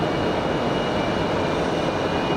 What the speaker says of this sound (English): D-rated takeoff.